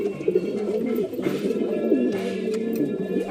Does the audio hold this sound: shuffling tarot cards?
no